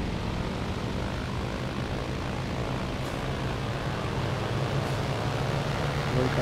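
Low-flying aircraft engines drone steadily and loudly during a video game air raid on Ophoven airfield, a dense, unbroken roar with no voices.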